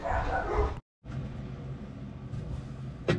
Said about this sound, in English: There's the dog again.